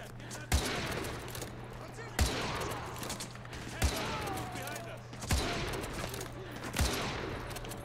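Gunfire from Call of Duty Modern Warfare 2 comes in five evenly spaced sharp shots over a steady game background hum, each followed by a short rumbling tail.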